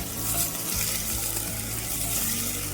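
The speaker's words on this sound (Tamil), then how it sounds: "ஒரு பெரிய வெங்காயம், எல்லாம் சேர்த்து நல்லா இலக்கி விடணும்." A big onion sautéing in a pan for a spicy Kerala-style mutton curry, loud close frying sizzle with constant stirring and scraping, a dense steady crackle with no voices.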